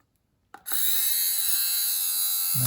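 A Xiaomi Mijia electric lint remover for clothing switches on after a short silence and runs with a steady, close, high-pitched motor whir that holds without a break to the end.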